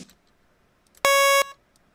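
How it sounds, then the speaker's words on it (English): A single short, bright electronic synth lead beep with a buzzy, square-wave timbre, sharp and loud against near silence, like a cheap old phone ringtone. "It will instantly sound like an old crappy ringtone."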